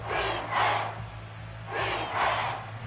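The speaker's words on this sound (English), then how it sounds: "This crowd turning up the decibel level." A stadium crowd at a Cardinals vs Seahawks football game rises in two loud, swelling roars a second or so apart, heard from within the stands over a low steady hum.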